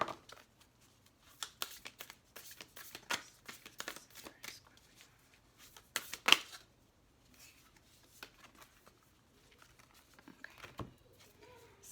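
Large tarot cards being shuffled by hand produce quiet, irregular bursts of papery riffling and soft slaps, close by, with pauses between flurries and one sharper snap midway.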